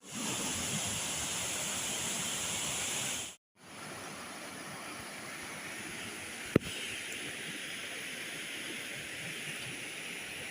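Stockghyll Force waterfall in a wooded Lake District valley in January, a steady broadband rushing roar of falling water, loud and continuous, briefly cut off then resuming with one sharp click.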